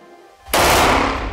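A Glock 18 machine pistol fires on full auto, a sudden loud burst that slams in after a quiet moment and roars on as one continuous, dense stream of shots.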